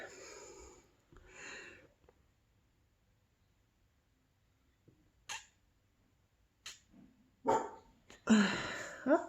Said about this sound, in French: petit chien qui jappe